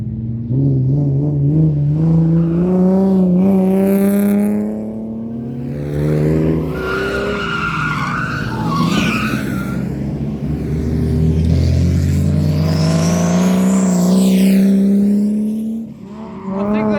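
Loud race cars roar past one after another on a time attack track, engines rising and falling as they lap, with tires squealing at times.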